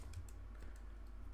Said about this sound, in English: if you plug this into your calculator, you will get, I'll type it in right now